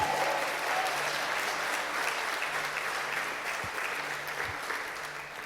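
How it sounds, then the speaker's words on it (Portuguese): A church congregation applauds during a sermon, broad continuous clapping from many people that stays fairly loud and slowly fades, with a faint low hum beneath. "Você pode aplaudir Jesus?"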